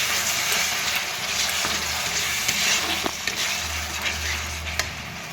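Ground cashew and tomato paste fry loudly in a pan for a cauliflower and potato curry, giving a dense, continuous, close-up sizzle with small crackles and no voices.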